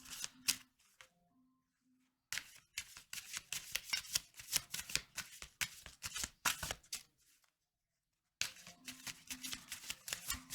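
Lenormand and tarot cards being shuffled in bursts of quick riffling flutters and soft slaps, with short pauses between rounds, close and fairly quiet.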